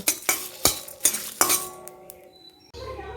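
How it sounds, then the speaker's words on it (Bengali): Spices and dried chillies tossed in a hot wok for pickle-making: a quick series of sharp metal spatula clinks and scrapes against the pan, then a lingering ring and a soft sizzle, close and clear. "আমি কড়াই বসিয়ে দিয়েছি মশলাটা এখন আমি একটু গরম করে নেব"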